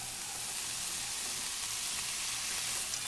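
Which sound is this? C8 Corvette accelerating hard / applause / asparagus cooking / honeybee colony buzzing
asparagus cooking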